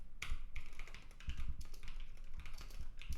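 Code typed on a computer keyboard during programming, a close and continuous rapid clatter of keystrokes with irregular rhythm and no pauses.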